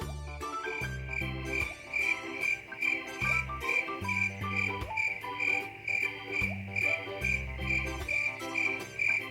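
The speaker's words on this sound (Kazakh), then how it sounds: "Шегіртке." A grasshopper chirps in a rapid, steady, high-pitched trill that pulses rhythmically throughout, set against a looping musical background.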